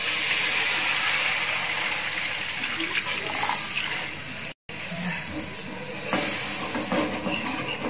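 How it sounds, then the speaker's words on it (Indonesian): Water poured into a pan of thickened Japanese curry roux, a steady broad splashing and hissing pour that runs close and fairly loud, broken by a brief cut midway before continuing. "saya masukkan air"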